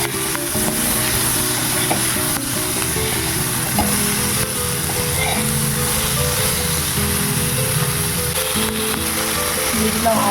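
Potatoes and cauliflower frying in a wok with cumin, onion and garlic, a loud continuous close sizzle with stirring scrapes, a tonal hum underneath and a voice talking over it.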